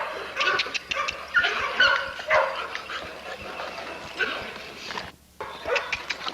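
American pit bull terrier whimpering and yipping with short barks, close and irregular, in a kennel setting with faint background sounds.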